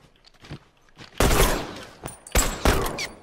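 Rifle fire rings out in a shooter video game: a few scattered single shots, then two loud bursts of rapid automatic fire, close and crisp, with brief pauses between volleys.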